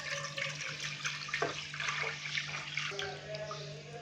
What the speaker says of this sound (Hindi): सबसे पहले हम पतीली के अंदर दूध डालेंगे।